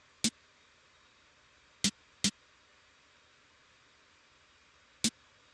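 Four sharp, isolated snare hits, crisp and bright, spaced unevenly over a quiet background with no other instruments.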